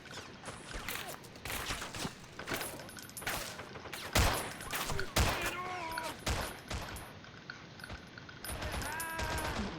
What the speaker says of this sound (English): let's have these guys open fire